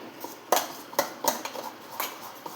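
Handvo batter mixed after adding Eno, heard as a spoon clinking and scraping against a steel bowl in a loose, uneven rhythm of sharp taps, close and fairly quiet.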